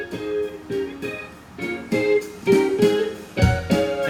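Multi-tracked piano plays the second movement of Beethoven's Moonlight Sonata: a slow, repeated pattern of ringing chords in gentle, evenly spaced strokes, with layered notes sustaining underneath, moderately loud and close.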